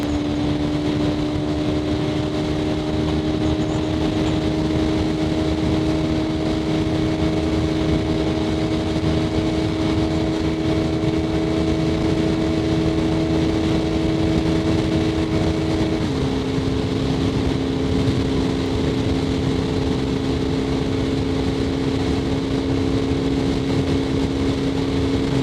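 A Honda CRF250L motorcycle cruises on a highway at about 110 km/h, its engine holding a steady droning tone over constant wind roar, with a small shift in pitch midway.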